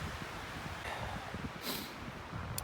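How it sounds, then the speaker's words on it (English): Strong wind sweeps across an exposed Rocky Mountain ridge top near the summit of Hell's Ridge in the Highwood valley, a steady broadband roar with gusts buffeting the microphone. "There's a lot of wind, so I gotta hide it."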